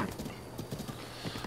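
In Zelda: Breath of the Wild, a game horse's hooves clop in a quick, soft rhythm and a whinny rises briefly over them, all faint and short.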